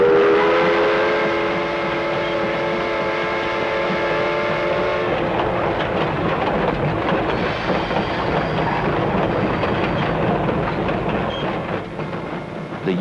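A steam train rumbles along steadily with a sustained whistle at the start, followed by continuous rolling rail noise and rhythmic clatter.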